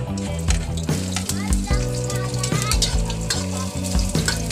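Chopped ginger dropped into hot cooking oil in a home kitchen, sizzling loudly and steadily up close while being stirred, with someone speaking over the frying.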